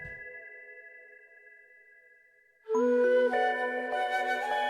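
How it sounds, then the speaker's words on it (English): Flute from the Sumeru rainforest music in Genshin Impact plays over soft sustained tones, then the music swells louder with a clear melodic line and fuller layered instruments. "The flute is back. It's like I said, I hear that flute, and for me, that's like, that gives the Sumeru vibe to like any song."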